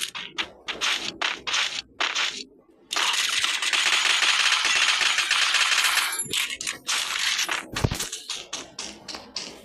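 Machine gun fire rattles in the Free Fire battle royale game: sharp bursts of rapid shots, then one long sustained stream of gunfire, followed by more scattered shots and a heavy thud.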